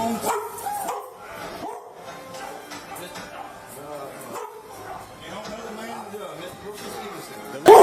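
A police dog barks and yips in short bursts amid tense shouting at an arrest inside a house, the barks mixing with loud overlapping voices.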